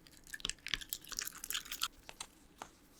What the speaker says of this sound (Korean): 튀김가루를 잔뜩 먹여줍니다. 사각사각 바삭바삭 소리가 참 좋죠?